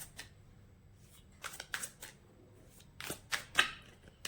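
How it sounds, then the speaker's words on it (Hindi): Tarot cards shuffled by hand in several quick bursts of riffling and flicking, close and soft, with quiet pauses between bursts and no talk. "तो मैं कार्ड्स को फिर से शफल कर लेती हूँ फॉर यू।"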